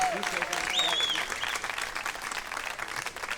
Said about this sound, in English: let's just start with a big round of applause for all of these storytellers who have shared this evening